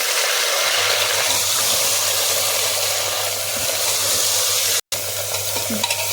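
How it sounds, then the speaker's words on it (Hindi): Ginger garlic paste goes into half a kilo of mutton keema frying with onions, the mince stirred in the pan: a steady, loud sizzle with scraping stir sounds throughout, broken by a very brief cut near the end. "फिर अदरक लहसुन का पेस्ट डाल देंगे।"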